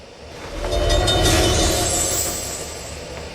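A train car rolls down the line with a loud, close rumble that swells and then eases over a few seconds, carrying faint rail clatter and a high whine.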